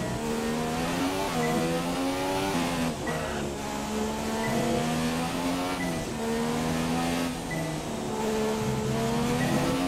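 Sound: F1 car engine driving in the video game F1 2017

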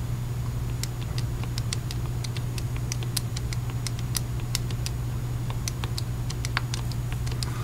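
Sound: typing a matrix into a calculator

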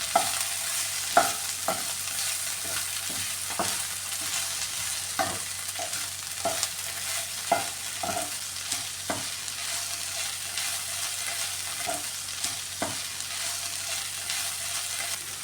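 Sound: ivy gourd and carrot stir-frying in a pan

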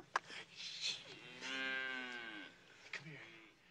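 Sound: cow mooing in a pasture

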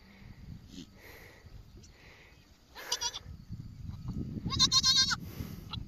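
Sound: goat bleating

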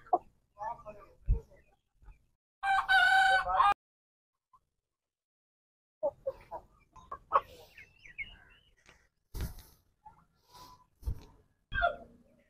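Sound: roosters crowing

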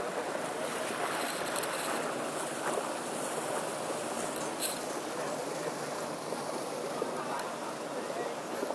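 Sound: boat approaching on floodwater

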